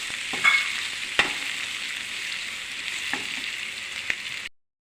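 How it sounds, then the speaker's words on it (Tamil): Onions fry to a brownish colour in a pan while being stirred, a steady hissing sizzle broken by a few sharp spoon scrapes before the sound cuts off abruptly. "இந்த மாதிரி நல்லா ப்ரௌனிஷாக ஃப்ரையாக நம்ம வதக்கிட்டு இருக்கணும்."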